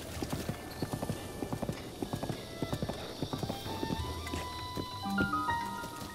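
Horse hooves in the video game Breath of the Wild: a brisk, regular clip-clop of a trotting horse up close, with faint chimes and effects toward the end.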